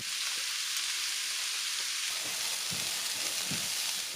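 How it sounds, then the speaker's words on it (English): Sweet potato pieces fry in a pan with a steady, even sizzle, near and continuous, with a few soft scrapes and taps of stirring toward the end. "Then fry this for 15 minutes, stirring occasionally."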